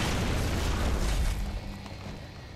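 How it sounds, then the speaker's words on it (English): A grenade explodes in the video game Gears of War 2, a loud full-band roaring blast that rumbles for over a second and then fades into a dull tail. "Goes my awesome grenade."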